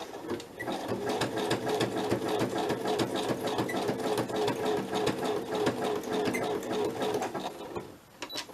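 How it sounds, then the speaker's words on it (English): A sewing machine zigzag-stitches through scrappy paper and a bit of fabric, giving a close, steady rapid whirring clatter that runs for about eight seconds before stopping abruptly near the end. "I think I might change my stitch to a zigzag stitch"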